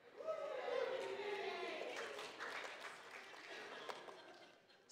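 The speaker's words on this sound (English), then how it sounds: "Let's have a cheer for spring." A church congregation claps and cheers for spring during a sermon, with scattered voices and a voice rising over moderate, fading applause inside the sanctuary.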